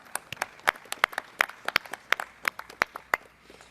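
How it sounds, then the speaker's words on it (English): Sparse applause from a small audience for Olympic athletes at a government event, with distinct individual claps in an irregular patter, fairly faint. "Could we please give them a round of applause?"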